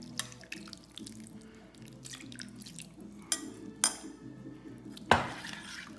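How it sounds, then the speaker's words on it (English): Tiger's milk marinade is poured onto raw fish ceviche in a kitchen: soft liquid trickling and drips, a few sharp clinks of a utensil against a bowl, and a final splashy pour. "And we take the tiger's milk and we pour it."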